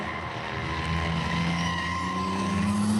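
Tesla Model S Plaid and Nissan GT-R launching side by side at a drag strip, with steady loud engine and tire noise that builds and holds through a rising whine, close and continuous without speech.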